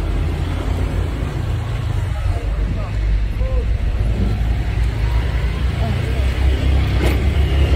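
Steady low road rumble of heavy trucks and traffic passing continuously nearby in Singapore, with broadband engine and tire noise throughout.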